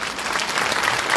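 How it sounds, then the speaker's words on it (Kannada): Loud, dense audience applause fills a coronation festival at the Shri Guru Rachoteshwara Hiremath monastery, a steady unbroken clatter of many hands with no voices over it. "ಎಲ್ಲರೂ ಜೋರಾಗಿ ಚಪ್ಪಾಳೆ ತಟ್ಟಿರೋಣ"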